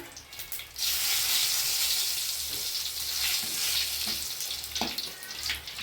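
A single bay leaf drops into hot oil already tempering with chilli and mustard seeds, setting off a loud, steady frying sizzle that swells at once and holds throughout, broken by a few light crackles and pops.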